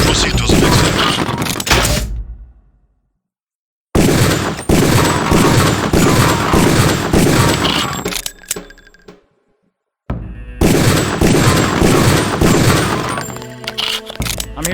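Rifle-range gunfire in the video game Deus Ex: dense loud bursts of rapid shots in three stretches separated by sudden dead silences, with metallic ringing and clatter toward the end.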